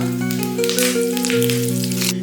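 Curry leaves, cumin and mustard seeds sizzle in hot oil for a potato curry, a steady close crackling hiss with a low frying hum running throughout, no voices.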